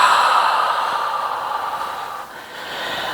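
A long, slow exhale of breath during a Pilates mat stretch, a soft airy whoosh that gradually tapers off, heard close and alone without talk.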